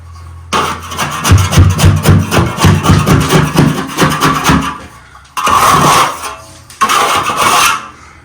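Rasping scrapes of a tool across a freshly plastered wall to knock off trowel marks, a long run of rapid strokes followed by two shorter bursts, loud and close with no talk.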